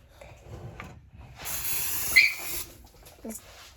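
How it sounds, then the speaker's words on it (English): A short hissing burst of oil spray on raw chicken for the air fryer, about a second long and close by, with light rustling and handling noises before and after. "go ahead and spray it"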